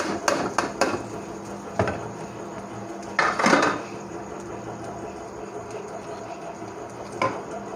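A spoon stirs chopped onions in hot oil in a pan while cooking chicken karahi, with sharp metal clinks and scrapes against the pan coming in scattered bursts over a low sizzle.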